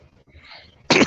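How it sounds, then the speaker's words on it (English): A single sharp sneeze bursts out loud and close near the end, after a quiet, faint breath-like lead-in. "Oh, sneezed on that one."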